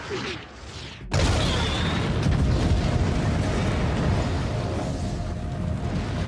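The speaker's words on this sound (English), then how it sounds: "just kidding, Boba Fett blew him up" In a scene from The Mandalorian, the Razor Crest ship is blown up. After a brief lull, a sudden massive blast erupts into a loud, sustained roaring rumble that slowly fades.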